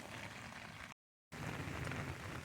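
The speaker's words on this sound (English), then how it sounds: "Yes, unfortunately it's raining today." Outdoor rain falls as a steady, dense hiss of drops, broken by a short moment of total silence before it resumes.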